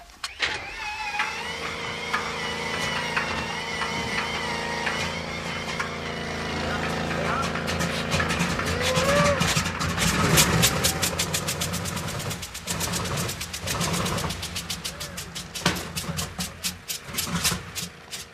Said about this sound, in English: the engine refuses to start